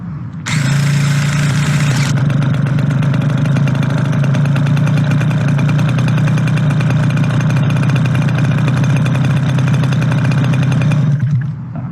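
A model aircraft engine catches and runs steadily at a loud, buzzing idle, with a brief high whine from a 20-volt electric starter at the beginning.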